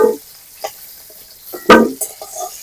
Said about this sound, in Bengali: এই যে আলু পেঁয়াজ ভেজে নিয়েছি এখন আমি তুলে নিচ্ছি